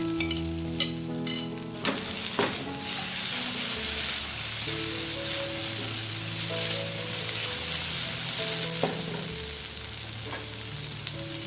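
French beans sizzle and fry in a pan with carrots and other vegetables for chilli garlic fried rice, with steady loud crackling, several sharp spoon-against-pan clinks early on and continuous stirring throughout.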